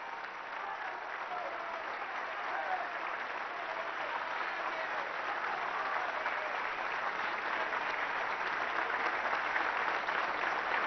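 Sustained standing ovation in a parliament chamber: a large assembly claps continuously and evenly, the dense roar of hands swelling slightly toward the end, with faint murmurs of voices mixed into the crowd.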